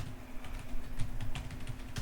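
Quick, uneven keystrokes on a computer keyboard as a command name is typed into a file-folder address bar, with clicks clustered across about two seconds over a low steady hum and no voices.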